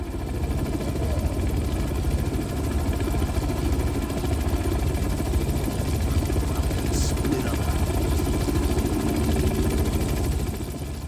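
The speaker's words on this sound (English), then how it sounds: "I wonder if the helicopter can spot us while we are sneaking up on enemies." A helicopter in the video game Manhunt 2 thuds steadily overhead with a continuous rotor chop and engine drone that stays constant and fairly loud throughout.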